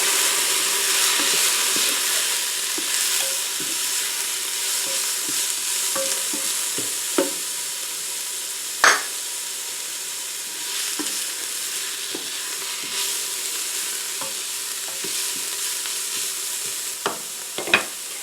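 Steady loud sizzling and hissing of garlic frying in a hot pressure cooker, with occasional stirring scrapes and clicks, no talking.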